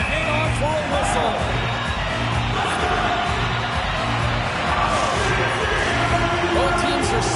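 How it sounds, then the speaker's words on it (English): NHL 25 video game hockey arena crowd roaring and cheering continuously, a loud sustained wash of voices with whoops and swells, under a commentator talking. "the crowd urging for them to shoot as time ticks down"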